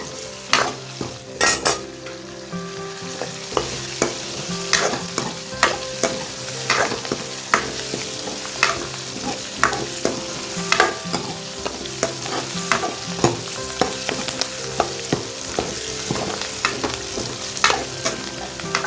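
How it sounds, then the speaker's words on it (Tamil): Onion and garlic sautéing with chili powder in a pan for Tamil sundakkai puli kuzhambu, a steady sizzle broken by frequent scraping stirs of a spoon against the pan, close and continuous with no talk. "இதை நல்லா வதக்கிக்கலாம்"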